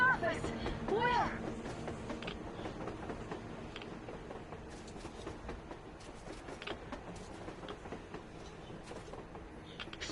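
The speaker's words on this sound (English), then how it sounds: "A train! A damn train on the surface!" In the video game Metro Exodus, a train runs across the surface with a steady, rumbling clatter that stays fairly distant and continuous throughout.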